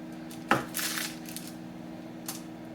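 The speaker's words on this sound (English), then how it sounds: "Whilst I cut up this butter" A knife cuts butter for lotion bars on a hard surface, giving one sharp clack followed by softer scraping and a second light tap later over a low steady hum, with no talking.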